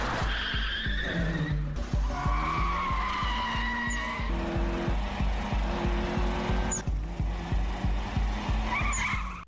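Cars racing on a mountain road in the Initial D movie, including a Toyota AE86, with tires skidding and squealing over steady rapid engine revving, loud and continuous throughout.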